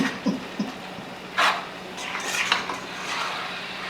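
Food is stirred in a pot with a metal utensil: a few scattered clinks and scrapes against the pot's side, one sharper knock in the middle, close by with a quiet room behind.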